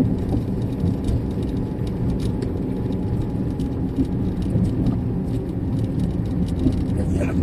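A car climbing uphill in second gear in traffic, its engine giving a steady, loud low drone as it accelerates, with a faint voice talking in the cabin.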